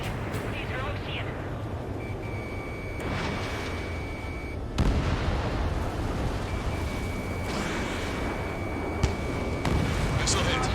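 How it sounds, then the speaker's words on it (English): Missiles strike targets in the Ace Combat 7 air-combat game, with a sharp explosive blast cutting through a continuous roar of rumbling fire and distant booms, voices faintly mixed in. "Missile hit."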